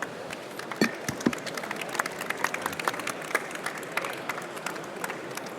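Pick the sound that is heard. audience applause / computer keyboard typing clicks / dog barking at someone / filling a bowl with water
audience applause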